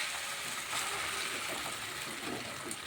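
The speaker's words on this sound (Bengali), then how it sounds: "এই যে আমি জুস দিয়ে দিচ্ছি সবজিটার মধ্যে।" Juice pours into vegetable curry frying in a pan, a steady broad hiss and bubbling sizzle that stays loud and even from start to finish.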